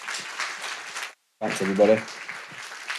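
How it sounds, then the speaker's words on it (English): Symposium audience applauding a speaker, a dense wash of clapping that breaks briefly, then resumes as a voice speaks over it. "everyone's standing up applauding as well"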